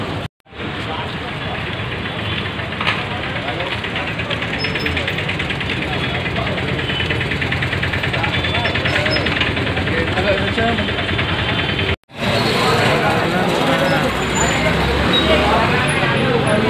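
Motorbikes revving outside a cinema during a fan celebration, a loud continuous roar of engines and crowd noise that cuts out briefly near the start and again toward the end.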